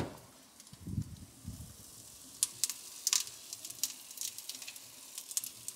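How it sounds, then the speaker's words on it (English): Faint crackling sizzle with scattered sharp pops and spits, steady and close, as salmon skin fries in a hot pan with oil. "You can hear it, too. Sizzling. Getting that skin nice and crispy."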